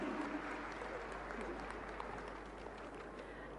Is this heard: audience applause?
yes